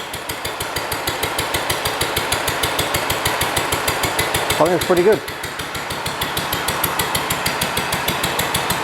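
A Wolseley WD1 stationary engine runs with a poor exhaust, thumping in a fast, steady, loud rhythm close by while someone briefly speaks over it midway.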